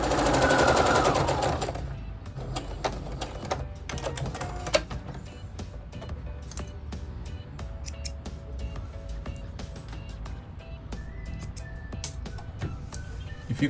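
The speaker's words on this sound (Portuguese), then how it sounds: "Agora eu vou dobrar para dentro e passar uma costura reta aqui." A sewing machine runs a straight seam along the folded hem of a dish towel, starting with a loud close whir for about two seconds, then continuing as a quieter steady mechanical hum with small clicks.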